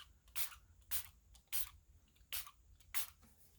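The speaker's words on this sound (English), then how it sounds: "I'm going to spray this on here." Five quick hissing sprays from a spray bottle, evenly spaced about half a second apart, close by against a quiet background.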